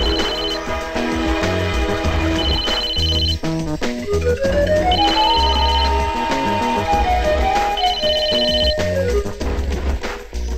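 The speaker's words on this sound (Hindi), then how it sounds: "एक काम करो, डॉली को फोन लगा।" A telephone rings in a 1999 Hindi film scene, with a repeating electronic ring tone heard over a continuous bed of background music and no talking.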